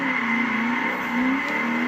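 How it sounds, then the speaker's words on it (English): Oldsmobile 442 muscle car in the Forza 4 video game, its engine droning steadily with a rising, sliding tone, close and loud throughout, no talk. "it'll be a lot more fun to drive around and, you know, get the tires to spin out and all that"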